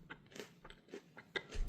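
Pepperoni pizza cheese crackers from a US Army MRE are crunched in a few quiet, close bites, sharp crisp snaps spaced irregularly with soft chewing between.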